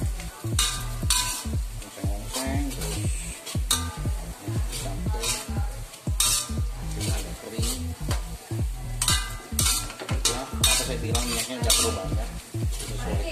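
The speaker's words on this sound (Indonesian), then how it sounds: "Kita goreng." Small dried shrimp (rebon) stir-fried in a hot pan, a loud steady sizzle broken by rapid, rhythmic scraping and clacking of a utensil against the pan, close and continuous with no talk.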